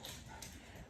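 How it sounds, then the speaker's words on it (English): Indoor dogs make a faint, brief whimpering yelp in the room, a quick low sound that is over in under a second. "Excuse my dogs, guys."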